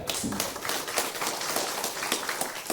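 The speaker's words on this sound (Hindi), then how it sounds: "सर के लिए एक बार ताली बजाइएगा।" An audience at a business coaching session claps for a shop owner, a busy, continuous patter of many hands with some sharper claps standing out, moderately loud throughout.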